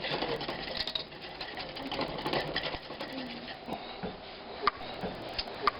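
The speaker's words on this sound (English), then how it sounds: "I'll just show you some high-speed whisking here." A hand whisk beats a chocolate haystack or macaroon mixture at high speed in a pot on the stove, making a fast, dense, continuous metallic rattling with a few sharper clicks near the end and faint voice in the background.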